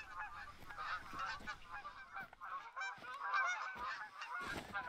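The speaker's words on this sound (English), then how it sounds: "Those geese sound very close." Geese honk in the hunting game TheHunter: Call of the Wild, a flock calling repeatedly in overlapping, close, fairly loud honks with no talk.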